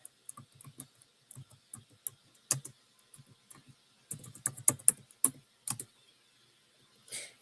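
Typing on a computer keyboard, quiet and close, in uneven bursts of light clicks with short pauses between them, and a few sharper taps near the end.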